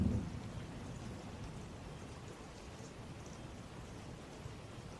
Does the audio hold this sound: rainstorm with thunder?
yes